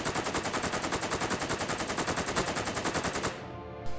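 Rapid automatic gunfire from a Necromunda tabletop battle sound effect, a loud, dense burst of evenly spaced shots rattling nonstop for over three seconds before cutting off, with one last shot at the end.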